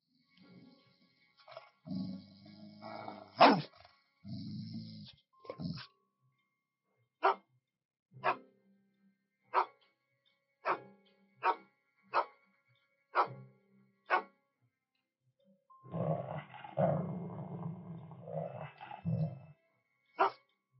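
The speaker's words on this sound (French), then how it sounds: "Pourquoi est-ce que Scott aboie?" A dog named Scott barks in sharp, evenly spaced single barks, broken up by stretches of rough, low growling at the beginning and end, close and loud in an otherwise quiet room.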